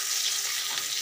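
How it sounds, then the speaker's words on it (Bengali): Finely chopped onion fries in hot oil for a shoto maser kosha, a dense continuous sizzle heard up close and fairly loud, with no voices. "তারপরে দিয়ে দেব একটা পেঁয়াজ কুচি কুচি কাটা, লাল করে ভেজে নেব।"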